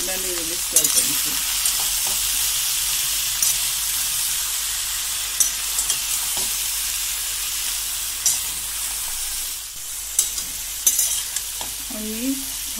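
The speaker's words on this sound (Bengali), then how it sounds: "আমি ভালোভাবে নুন হলুদ মিশিয়ে নিয়েছি।" Vegetarian vegetable curry with salt and turmeric being stirred in a pan, a steady sizzle with recurring scraping strokes of a spoon and occasional clinks against the pan, close and with no talking.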